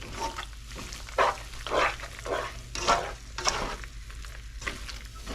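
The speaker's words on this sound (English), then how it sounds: "But just give that a quick stir." Quick stirring of food in a hot frying pan during home meal-kit cooking, a run of scraping, shuffling strokes over a soft steady sizzle, close and moderately quiet.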